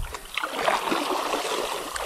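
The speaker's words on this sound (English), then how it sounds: "This is fast water." Rushing river water churns and splashes nearby in Montana, a continuous broadband wash with occasional sharper splatters.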